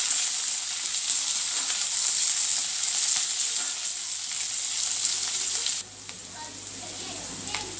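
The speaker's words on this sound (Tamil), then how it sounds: "நாலு பல் பூண்டையும் சேர்த்துக்கலாம். நல்லா வதக்கலாம்." Onion and four cloves of garlic sauté in a pan for idli kara chutney, with a loud, continuous close sizzle that drops to a quieter fry near the end.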